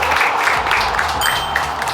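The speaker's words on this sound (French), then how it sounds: "On a pu les applaudir encore une fois." Studio audience applause at a televised World Cup quiz show, a steady dense wash of clapping lasting about two seconds with no pauses.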